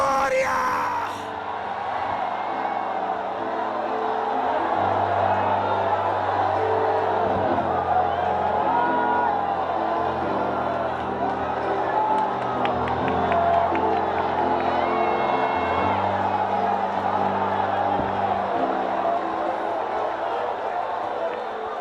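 A Pentecostal church congregation shouts and cheers in a loud, sustained roar of many voices, yelling and whooping together over steady music-like tones that keep running beneath the crowd.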